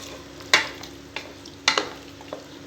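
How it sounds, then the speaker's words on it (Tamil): Ingredients for chicken pulao sauté in a pan with lemon juice, a faint steady sizzle broken by a few sharp spoon clacks and scrapes against the metal, close and with no voices. "சேர்த்துட்டு நல்லா வதக்கிக்கலாம்."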